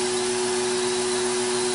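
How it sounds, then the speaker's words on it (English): An MT-20 nail vacuum running at a salon station, a loud, steady whirring drone with a constant motor hum throughout. "oh, that vacuum was loud."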